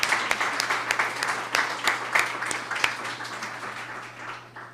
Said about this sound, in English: Can we get a round of applause for the fourth graders?